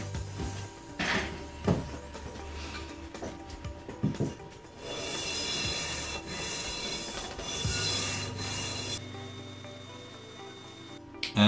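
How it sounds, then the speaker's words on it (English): A Melbourne Tool Company plane blade's edges are rubbed along a lubricated granite block to take off a burr, giving close, rasping strokes that start and stop irregularly with no talking. "And then I'm just going to run the edges along here just to see if I can get a bit of that burr off."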